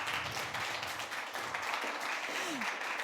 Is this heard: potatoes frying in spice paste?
no